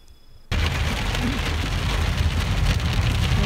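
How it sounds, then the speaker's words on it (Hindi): Heavy rain begins in the hills of Uttarakhand near Kausani. After half a second of near quiet, a loud, dense, steady hiss of rain on surfaces sets in abruptly and continues close by. "होने लगी है बारिश।"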